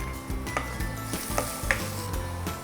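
Garlic and one spoonful of chili paste sizzle in a pan while being stirred, with a soft continuous frying hiss broken by several clinks and scrapes of a utensil against the pan.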